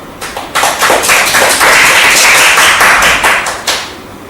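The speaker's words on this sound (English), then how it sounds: "give yourself a big round of applause" Audience applause at a Toastmasters club meeting, a dense burst of many hands clapping that swells quickly, holds steady and fades near the end, loud and close with no talk over it.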